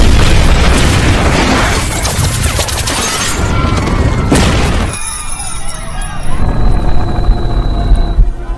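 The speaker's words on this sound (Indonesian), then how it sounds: "There's a bomb." A bomb explodes near a tower: a loud booming crash with debris and shattering noise, then a chaotic rumbling aftermath with high whines and ringing tones, with voices faintly mixed in.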